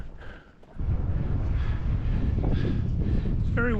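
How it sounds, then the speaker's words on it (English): Strong wind on the Pacific Crest Trail buffets the microphone in a steady low roar, with a faint voice in the background. "It's very windy."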